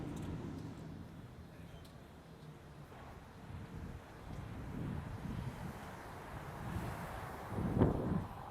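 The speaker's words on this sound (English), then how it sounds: "the wind's picking up too, which is going to catch the camera just a bit" Wind buffets a camera microphone on an outdoor walk in downtown Grand Rapids, a low rumbling roar that swells and gusts, loudest near the end, with faint city background.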